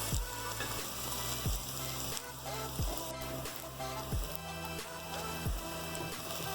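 Ingredients sautéing in a pan, a steady close sizzle with rhythmic low scraping stirs of a utensil about every half second, with no voices.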